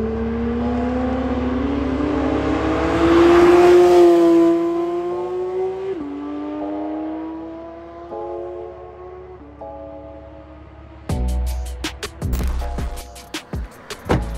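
Porsche 992 GT3 Touring accelerating on the road, its engine note climbing steadily through several gear changes, loud and close, followed by rough, bumpy mechanical noise near the end.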